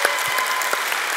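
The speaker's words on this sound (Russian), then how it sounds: "Все, давайте им похлопаем." An audience claps for a winning team at a sermon gathering, a short burst of steady, dense applause close by with no voices over it.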